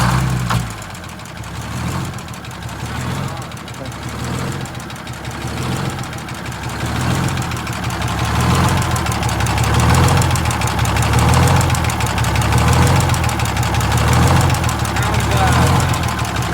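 An old bus engine runs roughly at idle, a loud, uneven, knocking rumble with surging, pulsing rhythm that swells slightly over time, close up and continuous, with people talking over it.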